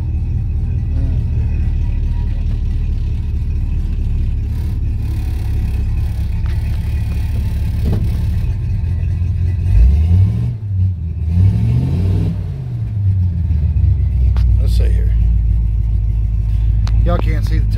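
A car engine started for the first time in 45 days, idling with a rough low rumble and rising in several revs near 10–12 seconds, with talk over it throughout.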